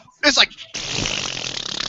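A voice imitates a loud, nasty fart with a buzzing, sputtering blat that drones on after a short vocal burst.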